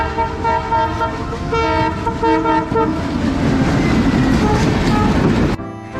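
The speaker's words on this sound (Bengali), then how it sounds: "দশটা বাজে নাকি মৈত্রী ট্রেন এদিকে আসবে" Maitree Express passenger train passing at Darshana, Bangladesh, sounding a loud sustained horn with harmonic blasts for several seconds over rolling wheel and carriage rumble, close by, ending abruptly.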